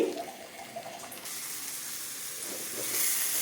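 Soft sizzling of tempering spices in a little ghee and oil for ragi upma, a gentle continuous hiss that swells slightly louder toward the end.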